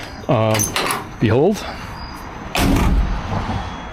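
Door of a 1964 IH Travelall C1100 swings and shuts, a solid clunk and rattle late on, while someone speaks briefly in between.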